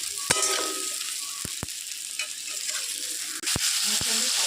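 Okra frying in oil with turmeric, a loud steady sizzle close by, punctuated by several sharp spatula knocks against the pan.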